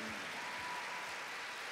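An audience applauding a singer at a televised talent show, dense steady clapping filling the short stretch at a fairly faint, distant level.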